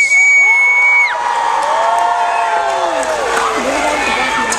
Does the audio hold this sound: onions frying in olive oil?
no